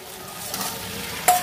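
Young jackfruit tipped into oil-released spice paste for a vegetarian Bengali curry, a short close sizzle with scraping stirring that ends in a sharp louder burst, no voices.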